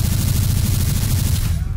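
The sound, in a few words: gunshots in the video game Garry's Mod (Morbus)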